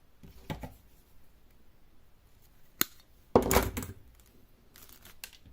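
Pruning tools cut a thick, strong root on a nursery-grown Japanese maple being made into a bonsai. A quiet snip is followed by a louder crunching cut with some rustling, all close up in a quiet room.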